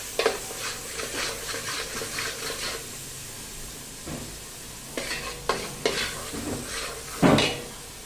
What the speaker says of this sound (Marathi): थोडंसं परतून घेऊया हे मिश्रण आधी